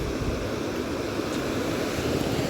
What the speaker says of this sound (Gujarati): પણ જો દરિયા જેવા મોજા આવા